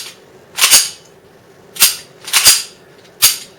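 Four sharp metallic clacks from the slide of a Winchester 1911 CO2 pistol snapping forward, loud and close, spaced irregularly about a second apart, alone with no talk.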